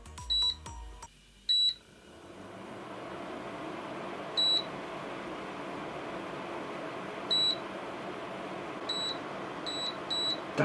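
A cooktop hob being switched on gives a series of sharp electronic beeps, a few quick ones at first and then single beeps spaced a couple of seconds apart, over a soft hum in a quiet kitchen.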